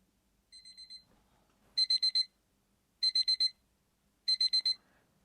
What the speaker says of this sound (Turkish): Bu tarz bir ötme sesi geliyor ama kulaklıktan geliyor tabii ki.